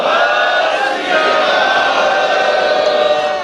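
A large crowd at a California Sikh remembrance march shouts the jakara response in unison, a loud sustained roar of many voices that holds for several seconds.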